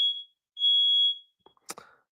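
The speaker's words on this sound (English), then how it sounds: "Oh, fire alarm's going off." Fire alarm sounding indoors: two sustained high-pitched electronic tones, the second held about half a second, followed by a brief clatter of noise.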